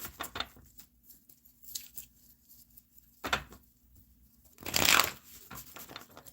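Tarot cards shuffled during a live reading: a few separate bursts of papery riffling and sliding, the loudest near the end, close by with quiet gaps between, and no talking.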